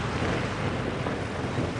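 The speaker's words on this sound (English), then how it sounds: "I know it's windy." Steady wind buffeting a microphone outdoors on a safari drive, a constant low rumbling roar with no pauses, no voices present.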